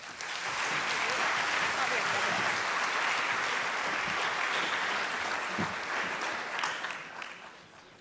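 An audience at a school academic bowl applauds fifth graders with dense, even clapping that stays loud and steady for several seconds before thinning out near the end.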